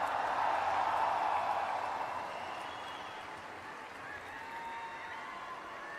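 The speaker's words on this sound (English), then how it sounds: "Big round of applause for Sadhguru once again." An audience at a live Save Soil event in Delhi gives a round of applause, strong at first and then gradually thinning and fading into a softer, sustained patter.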